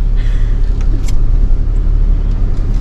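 A heavy truck with a big Cummins diesel engine runs nearby, a loud, steady low rumble with a few faint clanks and knocks on top and no talking.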